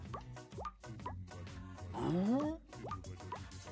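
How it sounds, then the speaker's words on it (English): Cartoon water drops plopping in a quiet indoor scene, a few soft liquid plinks spaced apart over a musical backdrop, with a rising swooping tone in the middle. "Water is dropping."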